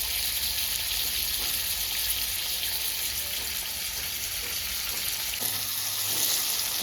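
Tomatoes fry in a pan with an even, continuous sizzle and fine crackle at moderate loudness that holds the whole time, with no voices.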